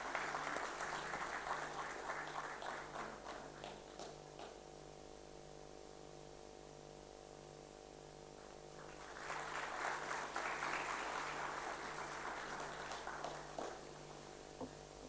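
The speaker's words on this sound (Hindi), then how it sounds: "तालियों की गूंज के साथ हम इस पल को सजाएंगे।" Sustained audience applause at a civic reception for the President of India in Maharashtra, steady clapping swelling louder partway through over a low mains hum.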